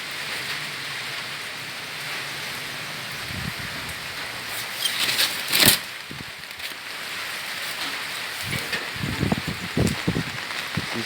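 Typhoon Ulysses wind and rain lash Barangay Cuayan at night, a steady hiss of rain with gusts, scattered patters and knocks, and a sharp louder burst midway.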